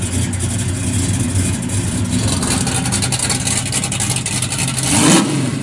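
A 1966 Chevrolet Chevelle SS 396 V8 with a 4-speed, electric exhaust cutouts and 3-inch exhaust rumbles loudly and steadily up close, with a brief louder rev near the end.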